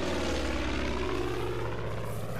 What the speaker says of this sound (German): aber wir haben ein Flugzeug hinter uns. Über uns.